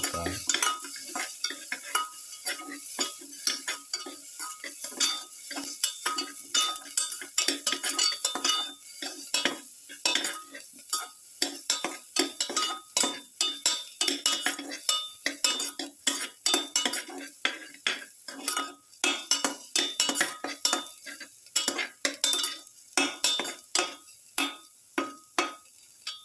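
Garlic sautéed in a pan, heard as a long run of close, sharp metallic clinks and scrapes from a utensil stirring against the pan, repeating in a quick irregular rhythm over a faint sizzle.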